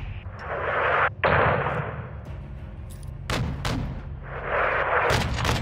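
Heavy gunfire and artillery explosions rake a convoy in a Call of Duty game's close air support mission, with continuous loud booming rumble, sharp blasts breaking through around the middle and again near the end.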